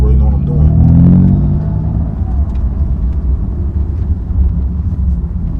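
A BMW F82 M4 with a manual gearbox driving slowly, its engine giving a low rumble that rises briefly in a rev and then settles into a steady drone, with people talking over it.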